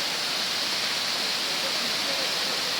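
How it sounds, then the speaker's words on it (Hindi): Water pours down at B Fall in Panchmarhi, a dense, loud, continuous hiss of a waterfall filling the whole clip with no break. "बिल्कुल बेपरवाह पानी मौजे लेते हुए नीचे आ रहा है"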